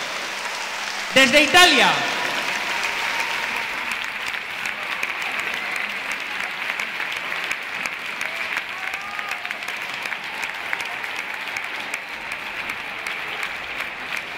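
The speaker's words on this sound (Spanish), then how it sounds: "Un fuerte aplauso para esta pareja de artístico." Loud, sustained applause from the audience at a closing sports gala for an artistic skating pair, steady clapping throughout after a brief announcer's voice at the start.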